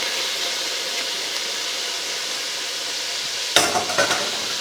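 Leeks sizzling in oil over shallots for split pea soup, a steady broadband frying hiss that gives way near the end to a louder burst of scraping and clattering as the pan is stirred.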